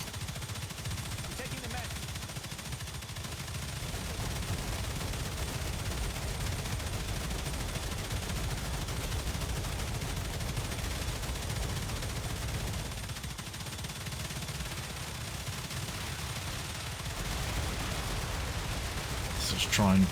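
Automated turrets in the video game StarRupture fire nonstop at swarming vermin, their rapid rattling bursts forming a steady mid-level wall of gunfire throughout.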